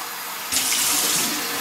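Tap water runs steadily into a cup being rinsed at a sink, a bright continuous splashing stream that starts abruptly and carries on, close and fairly loud with no talking.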